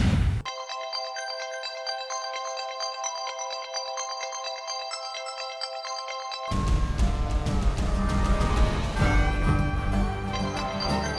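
A phone ringtone plays a repeating electronic melody alone for several seconds, then continues under louder background music in a TV drama scene.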